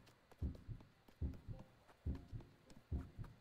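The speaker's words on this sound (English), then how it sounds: "This heartbeat noise is getting really annoying." Video game heartbeat effect, a steady double-thump pulse about once every 0.8 seconds, low and muffled, repeating alone without any talk.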